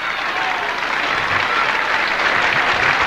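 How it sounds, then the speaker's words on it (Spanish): A church congregation applauds steadily and loudly during a Spanish-language worship service, the clapping dense and continuous from start to finish. "Dale un aplauso al Padre, al Hijo y al Espíritu Santo."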